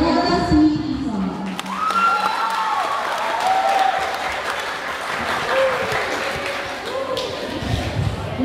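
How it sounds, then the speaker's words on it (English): An audience at a school foundation day celebration applauds steadily in a large hall, with sustained clapping and some scattered cheers and shouts throughout. "let us give a warm round of applause for the beloved school president, Dr. Nella C. Eason."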